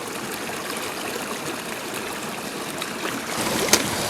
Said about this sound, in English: This is a beautiful little stretch of creek.